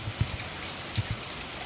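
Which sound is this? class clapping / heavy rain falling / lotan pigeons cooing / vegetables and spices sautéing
heavy rain falling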